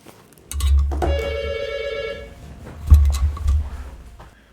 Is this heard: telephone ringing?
yes